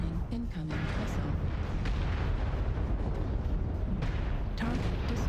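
Missile explosions in the mech combat game MechWarrior Online, a continuous heavy rumbling barrage of booms and blasts with brief bursts standing out, loud and sustained throughout, with a synthetic warning voice and game chatter layered over it.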